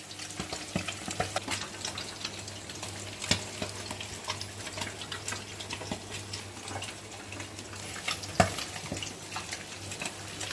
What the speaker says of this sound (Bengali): আর এখানে মাছটা ভাজছি